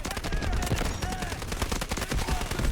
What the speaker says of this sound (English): That's the SMG-45 right there.